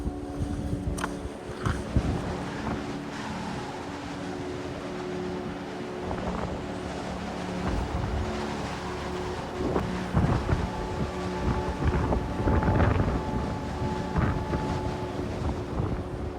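Strong, gusting wind on a steep Appalachian Trail mountain stretch during hurricane-force conditions, roaring and buffeting the microphone steadily for the whole stretch, with louder surges toward the end and no talking.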